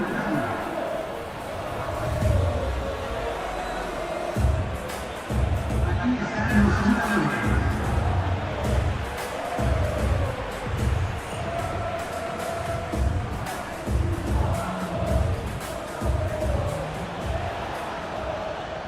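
A passionate stadium crowd roars at a football match in eFootball PES 21, a World Cup 2026 simulation on a clear night. Loud, continuous cheering swells and dips in waves, with indistinct chanting throughout.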